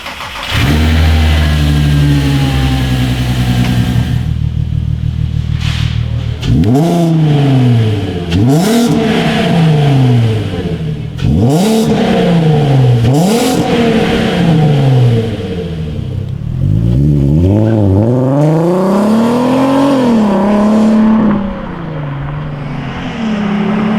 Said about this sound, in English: Okay, exhaust on, first startup in weeks.